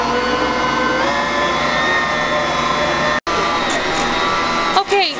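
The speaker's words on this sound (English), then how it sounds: "Now we're gonna let the mixer go for 5 minutes." A stand mixer kneading yeast dough for cinnamon rolls runs in a steady, loud motorized hum with continuous whirring, briefly cutting out for an instant midway before resuming, with a slight clatter near the end.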